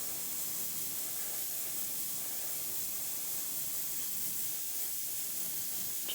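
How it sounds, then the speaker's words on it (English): A spray can hisses steadily as it paints a miniature model from above, a continuous close airy spray lasting several seconds with no pauses. "we're just going to hold the model sort of like this and spray from above like this"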